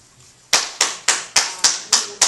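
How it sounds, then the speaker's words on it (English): Audience clapping at a 2009 mayoral debate in Oneonta, New York: seven loud, evenly spaced sharp claps, roughly one every third of a second, ring out clearly against a quiet room hum with no voices. "please stop clapping"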